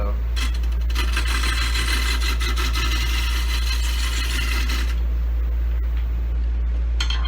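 A lathe turns an 18-inch walnut bowl while a tool cuts its tenon, a dense rasping scrape for several seconds over a constant low motor hum, the cutting then stopping and leaving the hum.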